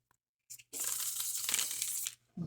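Matte-finish Lord of the Rings tarot cards being shuffled, a brief riffle followed by a sustained, fairly close papery crackling burst of about a second and a half, with no talk.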